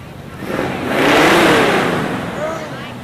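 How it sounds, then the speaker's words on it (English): An American muscle car passes during a Fourth of July parade in Chautauqua County, its engine roaring loud and close and swelling to a peak before fading, with a whirring tone underneath. "That's what American muscle cars sound like, right there."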